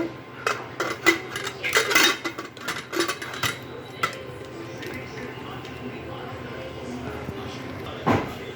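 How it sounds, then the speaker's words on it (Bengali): A 3.5-litre pressure cooker lid is closed over sweet Gobindobhog rice pulao, giving a cluster of close metallic clanks and clicks in the first few seconds, one more clack near the end, and quieter kitchen background between. "এবারে প্রেশার কুকারটা ক্লোজ করে দেব"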